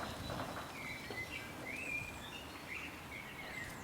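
Song thrushes sing in the countryside near Lympne and Hythe in Kent, with bright phrases rising over a steady outdoor hiss. A few scattered low thumps sound underneath.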